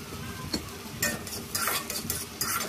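Vegetables frying in a pan with chili powder are stirred, giving soft scraping bursts over a steady low sizzle, close by, with no talk.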